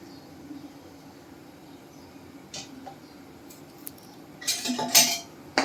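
A spoon stirs a drumstick and toor dal curry in a pan, with soft scraping over a low steady hum, then a few louder metallic clinks against the pan near the end. No one talks.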